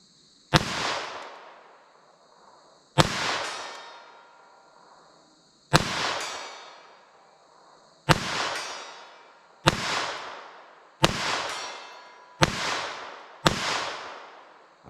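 Eight sharp gunshots from a Taurus TX22 .22 LR pistol fired at a 75-yard target, each crack ringing out with a short echoing tail, spaced a couple of seconds apart and closer together toward the end, loud and near with no talk.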